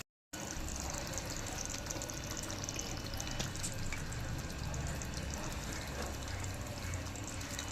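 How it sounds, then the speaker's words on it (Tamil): A ground paste of coconut, cumin, poppy seed and cardamom pours into simmering crab gravy in a pot, making a steady, continuous wet hiss and bubbling sizzle that holds evenly throughout, close and alone. "தேங்காய் ஜீரகம் கசகசா ஏலக்காய் அந்த பேஸ்ட்டை இப்போ இதில் ஊற்றியாச்சு"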